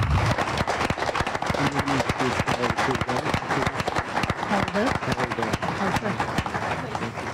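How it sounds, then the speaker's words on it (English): People at a ribbon cutting for Joelyn's Home break into a round of close, dense clapping that runs steadily for several seconds, with voices talking over it. "Join me in a round of applause"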